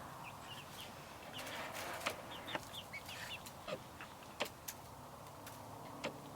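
Young chicks being introduced to an older chicken flock in a cage, with scattered short clucks and chirps over a steady background hum, moderately close and without speech.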